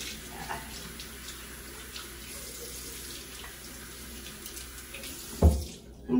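Water runs steadily from a tap into a newly installed sink during washing up, a continuous close splashing stream that cuts off near the end.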